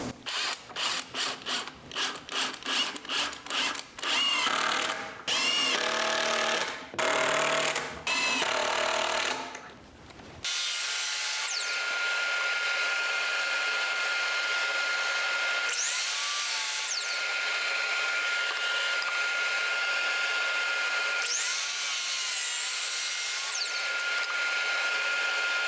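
A power drill drives GRK R4 #9 2.5-inch construction screws into wood for a farmhouse headboard, first in rapid stuttering bursts, then in long steady whining runs with pauses between, heard up close.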